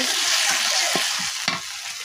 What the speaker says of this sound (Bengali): এবার আমি একটু নাড়া দিয়ে নেব